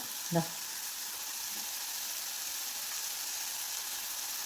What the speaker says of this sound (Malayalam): എല്ലാം കൂടി ഒന്ന് നല്ലതുപോലെ ഇളക്കി യോജിപ്പിച്ച് വഴറ്റി കൊടുക്കാം.